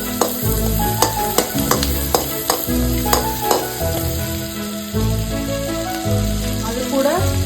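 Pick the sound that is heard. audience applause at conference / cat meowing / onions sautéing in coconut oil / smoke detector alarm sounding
onions sautéing in coconut oil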